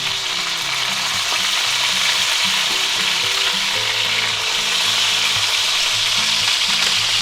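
Boneless pork chops sizzle loudly in a cast iron skillet, a steady, dense frying hiss that holds without pause, with faint low tonal hum underneath.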